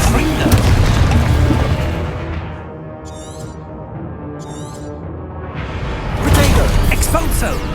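A Confringo blasting spell from the video game Hogwarts Legacy: heavy booming blasts with rumbling low end open the clip, a quieter stretch with faint crackles follows, then another loud blast erupts near the end.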